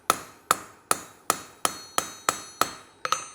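Hot metal is hammered on an anvil while a bottle opener is forged, eight sharp ringing blows at a steady, even pace, close and loud with no talk.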